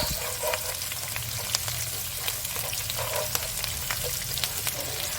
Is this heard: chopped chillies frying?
yes